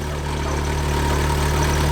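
A vehicle idles nearby with a rattling exhaust, giving a loud, steady low rumble with a constant hum and no change in pace.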